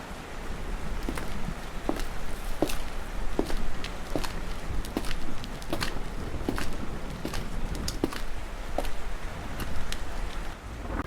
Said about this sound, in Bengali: কেউ একজনের হাঁটার শব্দ শুনতে পেলাম